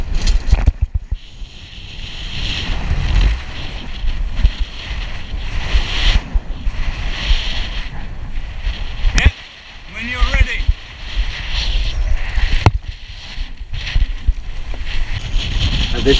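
Wind roars and waves surge and slap around a yacht at sea on a delivery passage from Brixham to Fleetwood, loud and continuous with buffeting gusts, while people talk over the noise.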